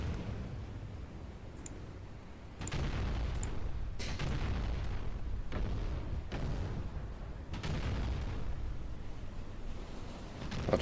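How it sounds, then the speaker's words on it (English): Warship main guns firing in the Battleship Command naval game, several heavy booms spaced a second or two apart over a steady rumbling sea and engine bed, loud and close. "Let's order a crew to fire at the warship with the main fire control system"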